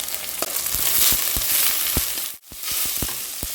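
Spices and aromatics sizzle steadily in a hot pan for a tender jackfruit pepper roast, with a broad hiss and repeated stirring clinks and scrapes throughout and a brief break near the end.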